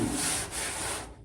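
A car deck lid rubbing against its hinges as it swings on an old Massachusetts hot rod being rebuilt, a short continuous scraping rub, close and fairly loud, with no talk.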